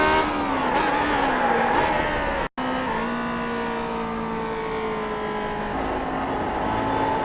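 A Lotus 49 race car at Watkins Glen held in fourth gear through the esses on light throttle, its engine a sustained high, steady drone with slowly shifting pitch, briefly cut by a sharp dropout before resuming.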